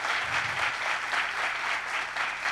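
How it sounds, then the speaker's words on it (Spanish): A television studio audience applauds guest J. Balvin on a talk show, sustained even clapping at moderate level with slight rhythmic swells and no talking. "Un aplauso para él"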